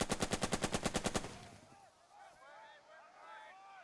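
Rapid machine-gun fire from the World War II tactics video game Burden of Command rattles in about a dozen fast, even bursts, then gives way to voices talking over faint background noise.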